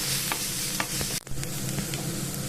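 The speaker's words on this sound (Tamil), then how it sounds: "அரைச்சி வச்ச மிளகாய் கருவேப்பிலை இது கொஞ்சம் வதங்கட்டும்" Steady sizzling and crackling of ground chillies and curry leaves frying in hot oil in a pan, with a brief stir partway through; close and continuous, no voices.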